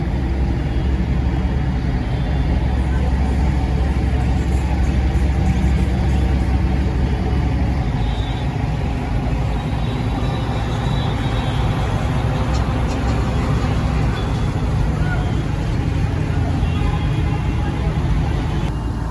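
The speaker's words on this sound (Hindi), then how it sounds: "ऊपर का ट्रैफिक, ये देखिए आपको ट्रैफिक धीरे धीरे खोल दिया गया है" Steady roar of vehicles on the Delhi–Mumbai Expressway beside a girder launching site, a continuous low rumble of cars and trucks moving past with no break over the whole stretch.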